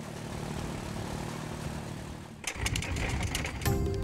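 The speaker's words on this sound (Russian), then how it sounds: "Заносим на это самое коромысло звук трактора Майкай." A small two-wheel walk-behind tractor engine chugs in the Mekong Delta in Vietnam, a steady mid-distance drone that shifts abruptly halfway through into a rougher, louder rattling throb with sharp mechanical clatter.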